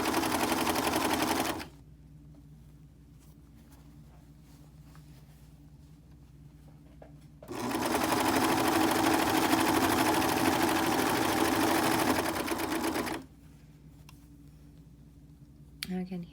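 A sewing machine stitches the curved seam of a three-layer fabric pocket mask in two long, steady whirring runs separated by a quiet pause, with a voice talking over the stitching.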